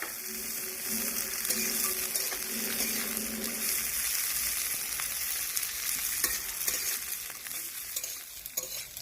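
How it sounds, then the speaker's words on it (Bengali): Carrots and beans frying lightly in hot oil, a steady crackling sizzle with intermittent stirring scrapes and some clattering, heard up close and without speech. "ভেজে নেবো হালকা করে তেলে, গাজর আর বিনসটা ভেজে নেবো।"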